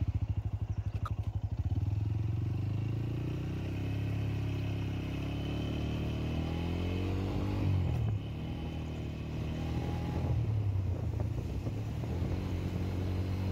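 A motorcycle engine hums steadily as it rides through green countryside near Kashedi Tunnel in the Konkan, rising and falling in pitch with changes in speed, loud and continuous throughout.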